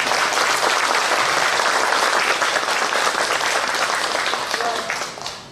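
An audience at a Buddhist lay association lecture applauds to welcome a speaker: loud, dense clapping from a large crowd, sustained evenly for several seconds before tapering off near the end.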